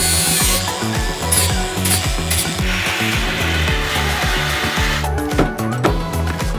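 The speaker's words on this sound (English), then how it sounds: "I could for sure grind some of that down, so let's start with that." A power tool grinds down metal on a Porsche truck build, a loud, steady, continuous whine with rough rhythmic chatter, close up and running alone without voices.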